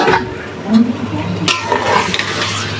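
Beef liver sautés with spices in a pan, a steady low sizzle with stirring scrapes and occasional utensil knocks, fairly close and continuous.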